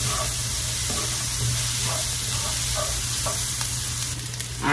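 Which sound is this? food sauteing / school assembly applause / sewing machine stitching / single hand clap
food sauteing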